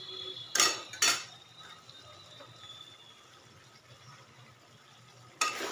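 A spoon stirs garam masala into potol chingri, a pointed gourd and prawn curry, in a pan. Two quick metallic scrapes and clinks come close together, then a long quiet stretch, then one more clink at the end.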